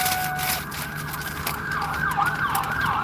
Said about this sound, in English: Oh, there goes another ambulance.